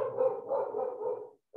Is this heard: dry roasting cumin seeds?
no